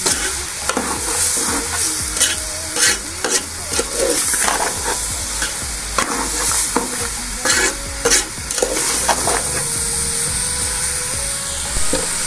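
Onions and masala stir-fried in a pan for bhindi masala, a steady loud sizzle broken by frequent scraping stirs of a spatula against the pan, close and continuous with no talking.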